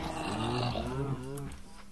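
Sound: zombie groaning in Minecraft video game

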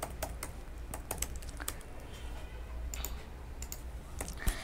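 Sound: typing code on a computer keyboard

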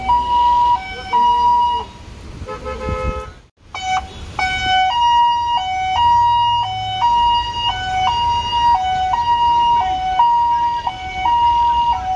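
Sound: police car siren

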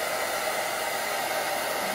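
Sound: hair blow dryer running

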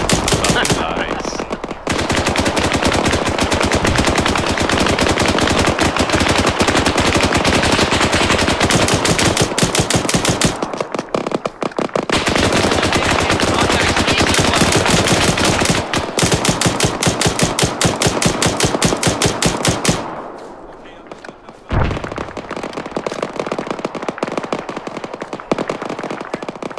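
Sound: machine gun fire in video game ARMA 3

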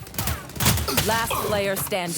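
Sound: gunfire from the video game Valorant

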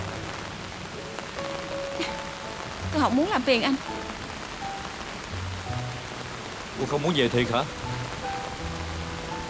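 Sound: rain falling in a drama scene

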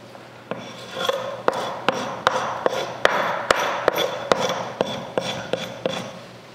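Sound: scraper stripping old wallpaper off wood

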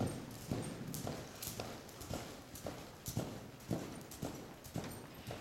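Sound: horse hooves while loping

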